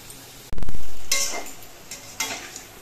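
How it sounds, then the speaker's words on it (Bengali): Palm fruit fritters frying in hot oil in a pan, a steady sizzle with a loud clattering stir early on and a second scrape of utensils later, no voices. "একইভাবে আমি সবগুলো বড়াই ভেজে নেব।"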